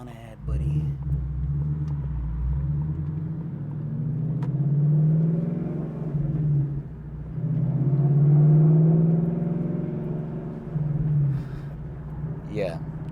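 A car fitted with a Corsa Extreme active valve exhaust cruises along, its low exhaust rumble swelling and easing in long waves, close and fairly loud, with someone talking over it.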